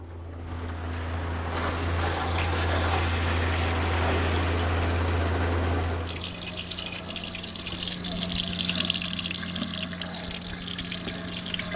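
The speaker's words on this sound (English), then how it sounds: "And check out the shower." An RV shower runs water, a steady hiss of spray that changes character partway through as flow shifts, with a low pump-like hum underneath and no talking.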